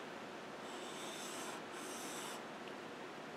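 Steady abrasive rubbing of a steel plane part on a 1000 grit Trend diamond plate during a Stanley No. 5 plane restoration, a continuous close hiss with a short pause midway, no talking.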